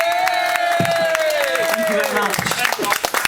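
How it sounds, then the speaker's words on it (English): Outdoor festival crowd cheering and whistling for a band in the rain, a long high whistle and shouts over scattered clapping, with a voice speaking briefly on top. "can we have a big cheer, please?"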